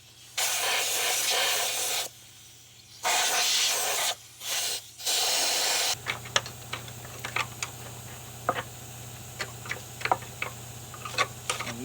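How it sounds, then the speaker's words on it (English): During the teardown of a 1976 Ford F100 pickup, a compressed air nozzle gives several loud, sharp hissing blasts, then falls quiet while light clicks and taps of work continue nearby. "You want some air on it to blow that stuff out of there as you break it loose?"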